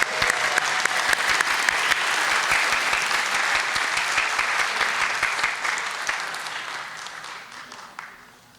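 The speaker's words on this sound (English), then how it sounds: "So let's give them one more round of applause." Applause from an audience at a party convention business session, honoring the young Republicans; dense sustained clapping that stays loud, then thins and tapers off near the end.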